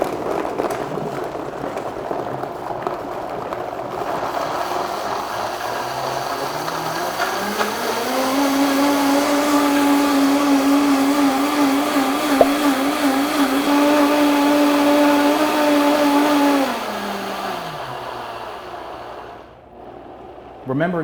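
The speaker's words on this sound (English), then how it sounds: "High-speed blender, start low, crank it up" A high-speed blender churns a citrus smoothie with ginger and carrots, starting at a low hum and ramping up to a loud, steady whine that holds for several seconds before winding down, close and dominant with no talk.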